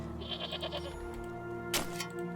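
A goat in the video game Wytchwood bleats in a short wavering burst, followed by a brief sharp game sound, over a steady layer of background game music.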